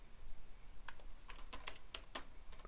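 Fast, light clicks of typing on a computer keyboard in a quiet room, irregular bursts of keystrokes starting sparse and then clustering densely toward the end.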